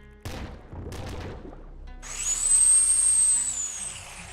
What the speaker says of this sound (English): Kraken ion cannon